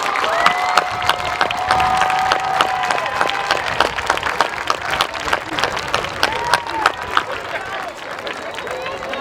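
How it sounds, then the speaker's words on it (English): A standing audience at a high school commencement ceremony claps steadily for several seconds, with scattered cheers and crowd babble mixed into the dense applause at moderate distance. "give her a round of applause the Wildcat way,"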